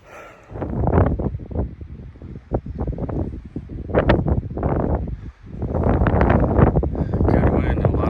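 Strong wind buffets the microphone on a steep mountain trail under racing clouds, a loud, continuous rushing roar that surges and dips with gusts.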